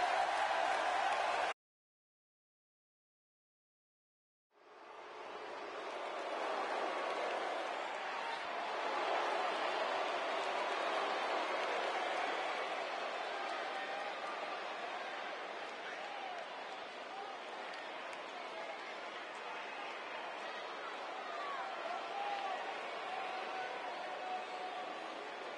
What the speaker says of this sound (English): as you can tell by the sound of the crowd around me